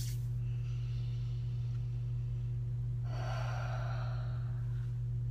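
Slow, deep breathing in and out, one long inhale then a longer exhale, close and soft over a steady low electrical hum.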